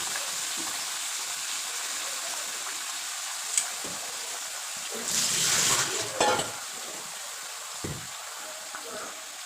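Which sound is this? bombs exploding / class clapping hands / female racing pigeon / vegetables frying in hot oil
vegetables frying in hot oil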